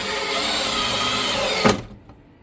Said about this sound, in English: So I'm going to take and drive these screws in on each side.